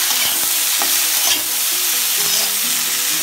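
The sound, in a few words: stirring potatoes with turmeric and salt in a pan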